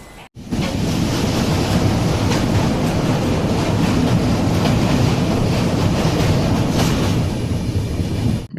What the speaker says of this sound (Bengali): নির্ধারিত সময় থেকে 10 মিনিট আগে ট্রেন এসে পৌঁছালো মালদা টাউনে